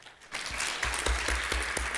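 An audience at a civic education panel event bursts into steady applause that swells quickly and holds, with dense clapping and a few stronger individual claps.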